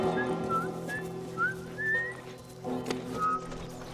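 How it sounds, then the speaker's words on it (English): A character whistles a wandering melody in The Last of Us Remastered, short rising and falling notes over a low game soundscape, fairly close and clear. "Oh, God, now we're gonna listen to her whistling?"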